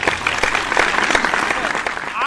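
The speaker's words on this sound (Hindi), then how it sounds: "एक बार जोरदार तालियां" Loud, close applause from a crowd at a Hindi poetry gathering (kavi sammelan), dense clapping filling the whole moment with a voice cutting through near the end.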